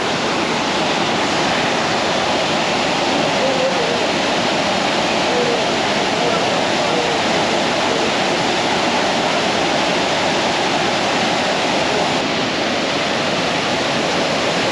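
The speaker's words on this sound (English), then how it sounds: "It's a cool waterfall" Steady roar of Devi's Falls in Pokhara, Nepal, a dense continuous rush that fills the whole stretch without letup, close and loud.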